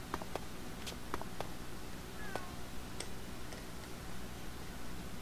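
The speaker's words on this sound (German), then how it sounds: "diese hässliche Katze hier" A cat in the skateboarding video game Tony Hawk's Underground 2 gives several short, high meows spread across the clip over a steady wash of game background noise.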